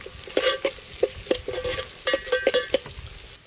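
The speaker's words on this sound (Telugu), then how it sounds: "ఉల్లిగడ్డ వేసుకొని కలబెట్టుకొని కొంచెం గోల్డ్ కలర్ వచ్చేదాకా" Onions frying in a pan while being stirred, with a steady sizzle under sharp, irregular scraping and clinking strokes of a utensil against the pan, close and fairly loud.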